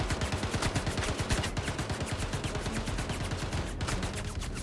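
NPC gunfire in the Star Citizen space game, a rapid, steady stream of automatic shots that are close and loud, sustained without pause and with no talk.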